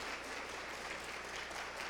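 Church congregation clapping together during a Sunday morning service, a dense steady wash of applause filling the room from start to end without a break.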